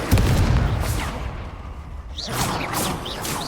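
An Incendio fire spell in Hogwarts Legacy goes off with a sharp blast and a rumbling burst, then softer whooshes and crackling combat effects follow during a duel, with no talk.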